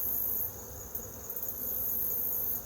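Honeybees humming at an open beehive during an inspection, a steady, close insect drone that fills the whole moment with no talking.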